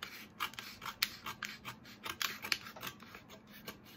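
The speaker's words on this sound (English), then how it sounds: "I'm going to go ahead and cut this piece off." Vinyl wrap sheet being trimmed off a tumbler produces quiet, close, rhythmic scraping and snipping strokes, a rapid series of short rasping cuts with no talk.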